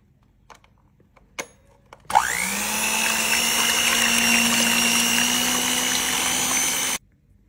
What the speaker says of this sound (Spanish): Aquí ya tengo las claras de huevo y ahora las voy a batir.